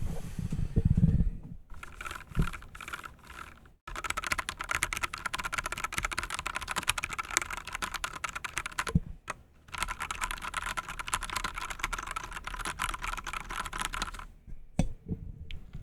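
Rapid, steady typing on a first mechanical computer keyboard with smooth, evenly weighted keys, dense clicking bursts in two long runs separated by brief pauses, close and clear with no talking.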